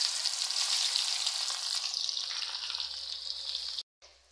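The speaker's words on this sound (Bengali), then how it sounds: "এবার আমি পেঁয়াজগুলো দিয়ে দিচ্ছি।" Sliced onions sizzle in hot oil seasoned with cardamom, cinnamon, cloves and bay leaves, a loud crackling hiss close by that eases slightly before cutting out briefly near the end.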